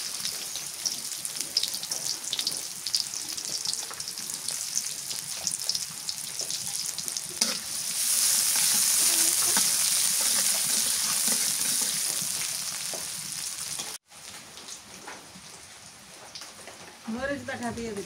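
Chopped onion dropped into hot oil in a pan for a fish curry with taro, bursting into a steady, loud sizzle that swells midway and then eases, with faint stirring scrapes.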